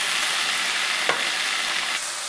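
Cluster beans frying in a hot pan while being stirred, a steady close sizzle with a few scraping stir strokes, no voices.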